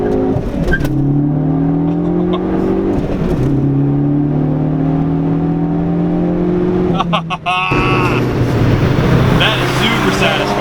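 A modified 2016 Ford Focus ST accelerates hard, its engine note rising steadily through the gears with brief dips at each shift, loud and close from inside the car while people talk over it.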